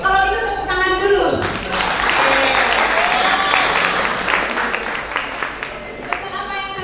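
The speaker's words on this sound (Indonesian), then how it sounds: "kalau gitu tepuk tangan dulu" An audience at a communication and hypnosis seminar breaks into loud, sustained clapping for about five seconds, with voices heard briefly before it starts and again as it tapers off.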